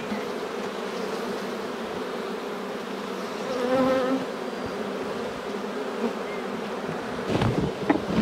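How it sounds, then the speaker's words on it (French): Many honeybees from a populous hive, its frames fully built, buzz in a dense, steady drone close by, their hum rising briefly midway, with a couple of soft knocks near the end. "Donc là il y a un peu plus d'abeilles encore."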